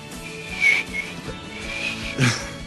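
A person trying to whistle, producing a few thin, breathy whistle tones in short separate bursts, with nothing else around them.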